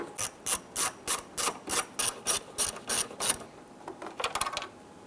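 A ratchet wrench loosens small 7mm screws on a 1995-2001 Ford Explorer headlight panel, giving about a dozen crisp, evenly spaced clicking bursts up close, a pause, then a quicker cluster of clicks.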